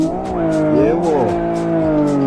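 A race car engine in the Live for Speed racing simulator, revving steadily with a strong humming tone that climbs and wavers up and down as the throttle changes, loud and continuous, with a voice talking over it.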